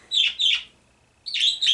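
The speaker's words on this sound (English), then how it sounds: "my birds like to do that whenever I talk" Pet birds indoors chirping in short bright bursts, two quick chirps, a thin whistle, then two more, close and clear with no talk.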